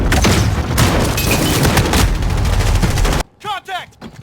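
Dense gunfire in the shooter game Modern Warfare, a loud continuous burst of rapid shots for about three seconds, then a quieter tail with brief game voice callouts.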